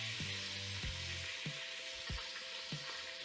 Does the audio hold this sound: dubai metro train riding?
no